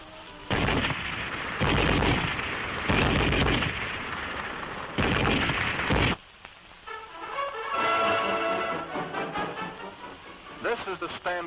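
A German WWII MG-34 7.92mm machine gun fires several loud, sustained bursts over the first six seconds, then cuts off, leaving quieter mechanical clatter and faint background noise.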